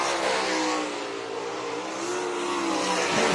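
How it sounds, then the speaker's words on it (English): Race cars roar around a dirt oval during the final lap of a dash or B main, a loud continuous wall of engine noise with revving that rises near the end. No one speaks. "Chase Reinauer heads off through turns 1 and 2 down the back straightaway for the final time."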